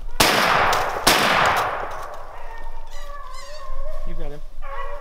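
Two loud gunshots crack close by while rabbit hunting in Maine, the second about a second after the first, each trailing into a long echo before voices and faint dog yelps follow.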